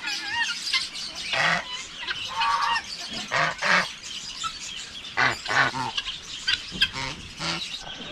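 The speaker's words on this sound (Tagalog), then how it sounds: "bigyan ng mais yung mga alaga nating ginya at saka gansa" Geese honk loudly and repeatedly, with guinea fowl calls mixed in, the birds close by as they are fed corn; a person talks briefly among them.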